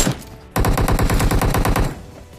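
Rapid automatic gunfire in the mobile battle royale game PUBG Mobile, a loud sustained burst of evenly spaced shots starting abruptly and continuing for nearly two seconds before tapering off.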